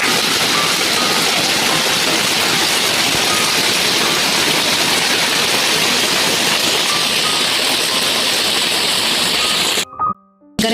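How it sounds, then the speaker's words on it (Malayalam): Heavy rain pours down in a dense, steady roar, loud and continuous, then cuts off abruptly near the end. "നല്ല മഴയാണ്."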